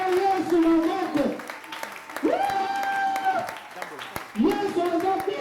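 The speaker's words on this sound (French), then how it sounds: "Acclamez le Seigneur" A church congregation claps and cheers in loud sustained applause, with voices singing and calling out over the clapping throughout.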